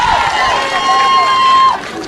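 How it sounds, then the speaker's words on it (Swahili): A large crowd cheers and applauds during a visit to the Raila Educational Centre school in Kibra, Nairobi, a steady roar of voices and clapping with a whistle-like tone running through, filling the whole stretch before dropping slightly at the end. "Makofi kwa baba."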